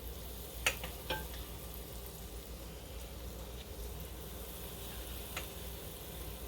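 Dough balls for Belgian donuts (smoutebollen) fry in a pot of hot fat, giving a steady, quiet sizzling hiss with a few faint pops and clinks over the top.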